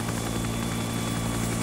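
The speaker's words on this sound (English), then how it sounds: "Can't while you're in a helicopter." Helicopter in the Arma 3 Vietnam milsim game, a steady droning rotor and engine hum with tonal whine, constant and close, no speech over it.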